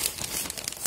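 A plastic bag of fresh potting soil crinkles briefly as soil is poured from it while repotting violets, a soft, close rustle under a second long.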